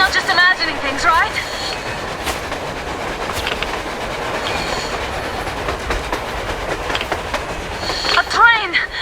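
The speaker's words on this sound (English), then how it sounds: "A train! A damn train on the surface!" A train rolls along surface rails in the video game Metro Exodus, a loud, steady rumble with clickety-clack and a brief metallic squeal near the end, blended with game ambience and battling wind.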